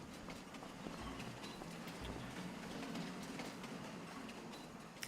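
A train pulling in during Farming Simulator 25 gameplay, a steady rumbling roar with rhythmic clattering of wagons that holds even and loud throughout, with no talk over it.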